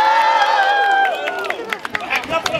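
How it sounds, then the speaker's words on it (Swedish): An audience at a juggler's outdoor show gives scattered hand claps and light cheers. The claps follow a sustained, wavering voice-like tone, with crowd noise throughout. "Här klappar de till och med händer."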